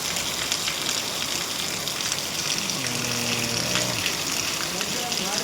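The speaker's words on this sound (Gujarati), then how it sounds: "ઘણા દિવસો પછી ભાઈ એવો છે વરસાદ આજે" Steady rain falling after many dry days, a dense broadband hiss continuous throughout at moderate level, with a faint tonal hum entering partway through.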